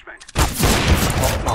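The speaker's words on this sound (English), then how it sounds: "Flashbang." Flashbang grenade detonating in Counter-Strike: Global Offensive, a sudden loud burst that gives way to a sustained roaring, ringing wash of noise.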